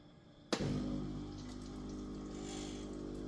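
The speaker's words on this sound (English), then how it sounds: "it will just simply dispense hot water directly out of where the portafilter would be" A Ninja Luxe Café Premier ES601UK espresso machine starts dispensing hot water from the group head, a sudden gush followed by a steady pouring and pump hum, close and alone.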